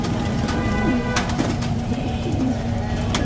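Bajrai pigeons coo nearby, several soft low coos repeating through constant background noise, with brief clicks and rustles.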